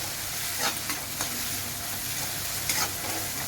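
Tomatoes sauté in a pan with a steady close sizzle and a few soft stirring scrapes, with no voices over the frying.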